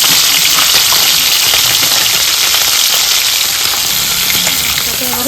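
Tangra and pabda fish fry lightly in hot oil, giving a loud, continuous close sizzle with crackling spatter and a few faint stirring clicks.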